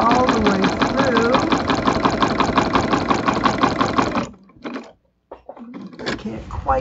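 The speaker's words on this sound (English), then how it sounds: "I'm just going to sew all the way through." A sewing machine fitted with a walking foot stitches through a quilt in a steady rapid whir for about four seconds, then stops, leaving only brief handling noises and short mechanical bursts.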